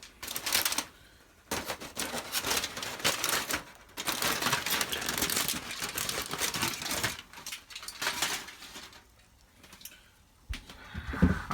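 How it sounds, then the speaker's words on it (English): Aluminum foil crinkling and rustling as it is peeled off a pan of baked rubbed pork ribs, close and continuous with brief pauses. "Now I'm going to take the foil off."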